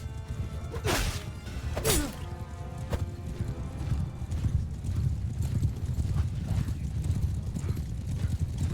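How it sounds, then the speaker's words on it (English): Horses gallop in a Bannerlord medieval battle, their hooves clip-clopping in a dense, continuous patter close by, with sharp whooshing impacts early on and someone talking over the fighting. "Horse!"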